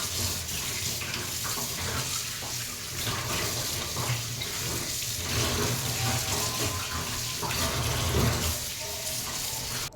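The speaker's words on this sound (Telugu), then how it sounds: "తోలు తీయకముందే నేను శుభ్రంగా కడుక్కుంటాను." Tap water runs steadily into a sink as a pumpkin is washed before peeling. The flow is a moderate, continuous splashing with small fluctuations throughout, and no talk is heard.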